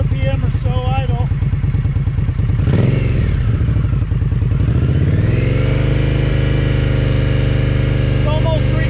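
Indian Scout motorcycle engine, close and loud, idling with a steady throbbing pulse, then revving up sharply with a rising whine that holds at higher speed, a voice talking over it at points.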